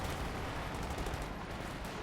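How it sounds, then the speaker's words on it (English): Stuka zu Fuss rocket artillery fires in a wartime strategy game, a dense continuous roar of launches and blasts with no pause, filling the short moment. "there's the sound of the Stukas of Fuss opening up"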